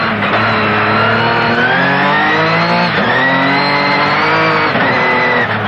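A race car revs hard on a Chamonix circuit, its loud close engine note climbing in pitch through gear changes, with a brief dip and rise midway and no talking.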